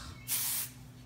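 A short, close burst of Kenra Dry Volume Burst hair spray hisses from an aerosol can for about half a second, then cuts off, with quiet room tone before and after.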